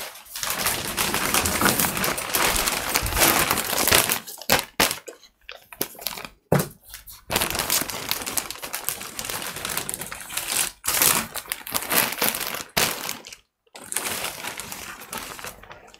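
Sheets of printmaking paper are handled and shuffled nearby, giving a dry rustling and crinkling that comes in close bursts separated by short quiet gaps.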